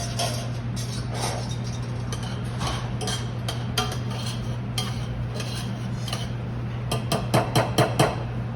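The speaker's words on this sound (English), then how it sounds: "I'm gonna add in a couple of ladles and I'm gonna stir it" Risotto with chicken broth being stirred in a pan, with a series of light clinks and scrapes of a utensil against the pan, and a quick burst of sharper taps near the end.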